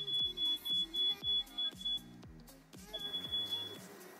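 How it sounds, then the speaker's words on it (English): A smoke alarm with a low battery chirps in high, thin beeps over a steady rhythmic musical backing, fairly faint. "I think my fire alarm is running out of battery."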